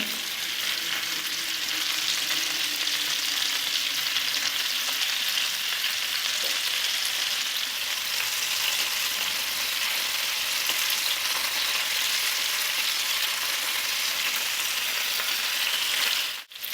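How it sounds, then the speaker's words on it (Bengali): Chicken kebab sizzling in a pan with butter, a loud, steady crackle of frying that holds throughout, ending with a brief clatter as the pieces are turned. "এভাবে ঘুরিয়ে ঘুরিয়ে আমরা এটা ভেজে নেব"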